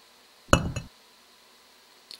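Stone being mined in the block-building game Block Story gives a short, bright cracking clink with a quick follow-up tap, then near silence, closing with a faint tick.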